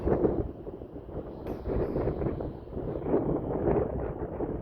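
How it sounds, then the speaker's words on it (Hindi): Strong seaside wind rushes past a moving passenger train near Kanniyakumari, a loud, steady low roar buffeting the microphone with gusty swells throughout. "तेज हवा को चीरती हुई अपनी ट्रेन निकल रही है"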